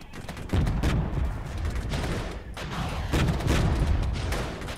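Artillery barrage falling on tanks in the Regiments strategy game, a dense, continuous rumble of explosions and crackling fire with heavier booms swelling at intervals.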